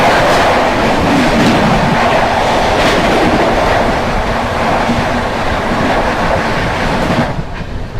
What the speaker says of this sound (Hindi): सामने से आ रही है दोस्तों न्यू दिल्ली रांची गरीब रथ एक्सप्रेस।